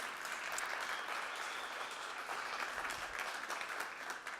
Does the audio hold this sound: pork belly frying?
no